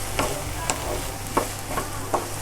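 Moong dal burfi mixture is stirred with milk in a pan, giving soft, evenly spaced scrapes of a spoon over a low background hiss. Several strokes sound close, with no voices.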